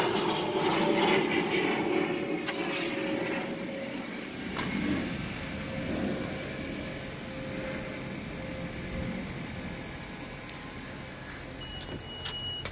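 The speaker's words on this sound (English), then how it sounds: "I'm right near the airport, so don't mind the jets going by." Jet airplanes passing overhead near an airport, a loud roaring rush that swells and slowly fades across the whole stretch, with faint clicks near the end.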